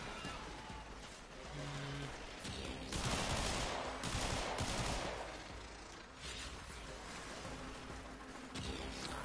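Dense, continuous gunfire from a Warframe sortie mission, a steady barrage of overlapping shots and bursts with loud swells around the middle.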